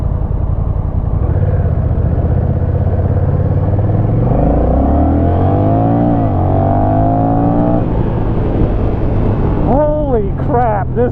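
A Honda Rebel 1100 motorcycle in sport mode accelerates hard, its loud engine climbing in pitch through rising gears up close, with brief voices near the end.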